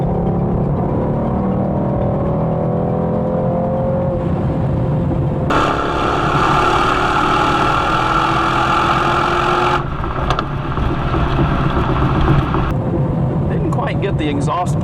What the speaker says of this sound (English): I've changed to Sport Plus mode, which is what makes the exhaust sound absolutely incredible